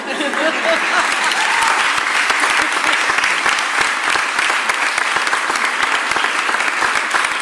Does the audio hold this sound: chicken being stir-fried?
no